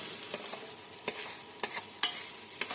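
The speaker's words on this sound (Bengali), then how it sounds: "এগুলো দিয়ে হালকা আঁচে একটু নাড়াচাড়া করে নেড়ে নেব" Rice stirred in a pan with cardamom pods and a bay leaf over low heat for jaggery payesh, giving soft scraping strokes at irregular intervals over a quiet background with a faint sizzle.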